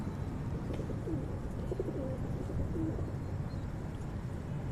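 Pigeons of an old breeding line cooing steadily, soft low repeated coos layered against a constant bed of background noise, with no voices present.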